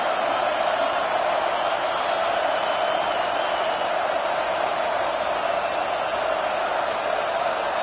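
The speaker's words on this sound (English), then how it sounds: "Listen to this crowd just shaking the girders of this place" Stadium crowd roaring continuously at a USC at Nebraska football game, a dense, steady wall of cheering and whooping that fills the whole stretch without letup.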